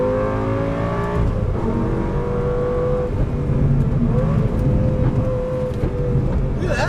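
A 2004 Lamborghini Gallardo V10 with all-wheel drive drones steadily at close range on a race track, its engine note holding a harmonic wail that shifts pitch as the car accelerates through corners.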